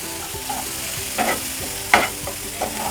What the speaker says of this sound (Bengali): বাটারটা দিয়ে দিলাম, এবার মাংসগুলি ভেজে নিব।